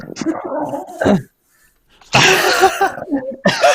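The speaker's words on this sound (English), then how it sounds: "Oh, the corgi sound." A corgi gives loud, excited barks and whimpering yelps in bursts, with a silent gap in the middle and another flurry of noisy vocalizing near the end.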